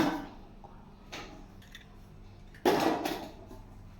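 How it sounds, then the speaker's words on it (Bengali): Eggs cracked against a bowl over ground soybean paste: a couple of crisp taps and knocks, then a louder clattering crack, close by and quiet, with no talking. "এখন এর মধ্যে ডিমগুলোকে ফাটিয়ে দিয়ে দেবো"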